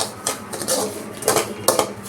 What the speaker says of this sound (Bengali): এটাকে আপনাকে ভালো করে নাড়াতে হবে